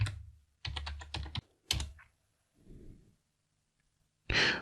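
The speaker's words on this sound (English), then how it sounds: "type in the password for the user" Fingers typing a password on a computer keyboard during a Linux server setup, short clustered bursts of close clicky keystrokes separated by pauses, with a brief soft breath between them.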